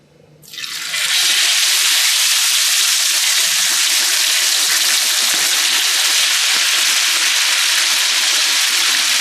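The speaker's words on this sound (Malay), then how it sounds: "Okay, kita dah boleh goreng ya." Steady, loud sizzling of marinated spiced chicken frying in hot oil, starting abruptly and continuing evenly with no talking.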